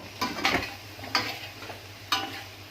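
Zucchini being added to a pan of sautéed vegetables and stirred, heard as close utensil scrapes and taps over a soft sizzle, with a few distinct knocks spaced through the clip.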